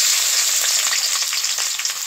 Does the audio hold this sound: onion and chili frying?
yes